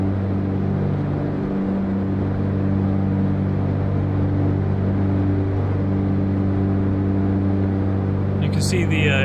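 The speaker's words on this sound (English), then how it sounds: "You can hear those engines come alive" Twin engines of a Cessna 404 Titan in the FSX flight simulator holding a steady, droning hum as power comes up, constant and even throughout with a brief electronic blip at the very end.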